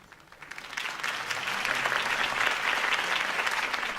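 A crowd in Batman: The Telltale Series applauds after a campaign speech for Harvey Dent, the clapping swelling from a few hands into a broad, sustained ovation heard at some distance.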